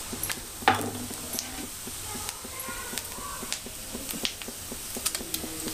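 Mustard seeds and cumin crackling in hot oil in a pan for idli sambar: scattered sharp pops and spits over a soft steady sizzle, moderately close, with a louder pop near the start.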